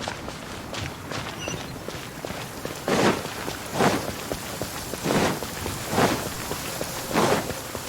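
Steady rain hisses in the video game Genshin Impact. Several heavy, evenly spaced footfalls or splashes stand out over the constant downpour.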